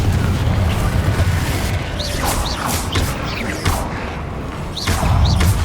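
Bombarda spell blasts in Hogwarts Legacy, a series of sharp booming impacts and crashes over a dense rumbling battle din, with bright whooshing spell flares recurring every second or so throughout.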